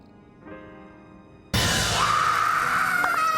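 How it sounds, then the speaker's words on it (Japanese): A cat-like scream from an anime character bursts in suddenly and loud, a sustained high wailing cry that holds over busy soundtrack noise after a quieter lead-in. "この猫みたいな叫び声、前にも聞いたな。"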